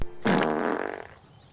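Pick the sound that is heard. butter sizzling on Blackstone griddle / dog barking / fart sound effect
fart sound effect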